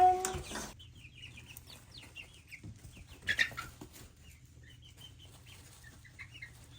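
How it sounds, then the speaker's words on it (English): Young chickens on a farm chirp and cluck in scattered short calls with some wing flutters, fairly close, over a low background rumble after an initial louder burst. "They look like mini chickens now."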